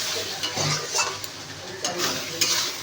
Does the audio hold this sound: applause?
no